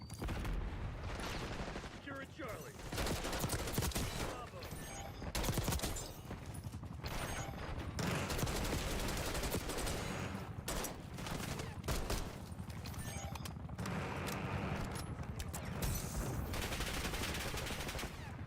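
Rapid AK assault rifle fire in Black Ops 6, dense bursts and repeated shots running throughout, with a voice talking over the gunfire at times.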